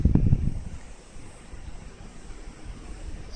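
Typhoon wind gusts buffet the microphone in a rural village, opening with a hard low rumbling blast before settling into a steadier, softer rush of wind.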